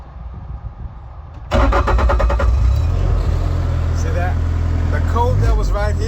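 A Bobcat skid steer loader with a fault code cranks and its engine catches abruptly, then settles into a loud, steady diesel rumble that continues to the end.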